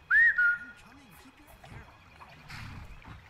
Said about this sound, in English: We got a whistle that can actually whistle him in case he ever gets lost somewhere